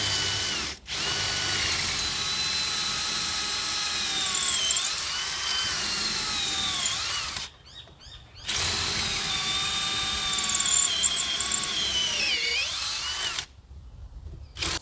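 An old drill bit bores into mortar with a loud, close, high-pitched whine, broken into several long runs by brief pauses, with no talk.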